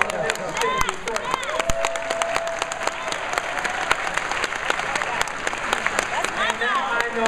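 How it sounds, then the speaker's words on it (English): Audience clapping and cheering at a live event, sustained dense applause from a large crowd for several seconds, with scattered whoops and voices rising above the steady wash of hands. "Why do y'all applaud these cities?"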